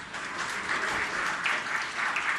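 An audience clapping at a Jain religious discourse session with a monk: dense, steady applause from a crowd, fairly close and loud, with no speech over it.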